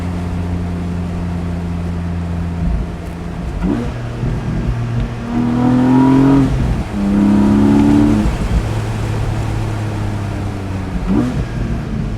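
A Porsche 718 Boxster 25 Years engine pulls hard in third gear under throttle, its note rising in two strong surges over a steady drone, loud and close from inside the car.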